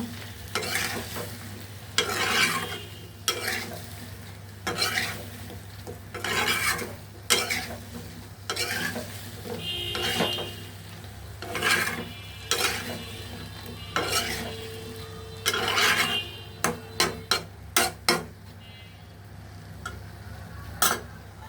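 Okra and cut potato sautéing in a pan, with a steady low sizzle under repeated scraping stirs and spatula clicks against the metal, close and moderately loud, the strokes coming in irregular bursts.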